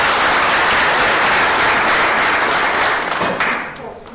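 A room full of people gives a round of applause for a speaker at an HIV awareness event, loud continuous clapping that holds steady and then fades out near the end.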